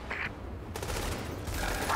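Automated gun turret firing in The Division video game, a rapid rattling stream of shots that starts abruptly and keeps going, moderately loud over game ambience.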